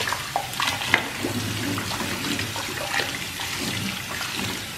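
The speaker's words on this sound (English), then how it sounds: "Now we're gonna pour it out and rinse the noodles." Running water pours steadily over cooked pho noodles being rinsed in a kitchen sink, a continuous rushing splash at close range with small clinks, no voices.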